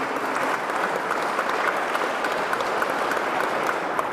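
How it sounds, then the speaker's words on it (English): Sustained audience applause for panel members at a Safe Streets community meeting in a station hall, a dense steady wash of many hands clapping at even loudness throughout, with no voices over it. "Give them a nice round of applause for being here."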